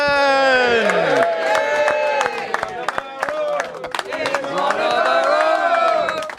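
A studio audience cheers and applauds for a guest, a loud sustained crowd roar with whoops and dense clapping throughout, swelling again toward the end.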